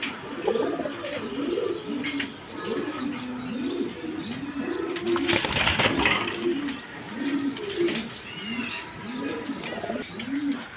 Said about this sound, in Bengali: একটা রাসগোল্লা কবুতর আছে দেখেন একটা মাদি কবুতর দেখেন